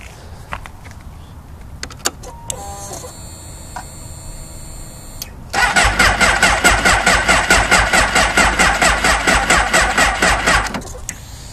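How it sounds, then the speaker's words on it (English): A 2006 Suzuki GSX-R 600 motorcycle gets a cold start attempt in winter: a starter whir and chirps, then the engine catches and idles loud and close with a rapid, even pulsing beat before cutting off abruptly. "starting the bike up."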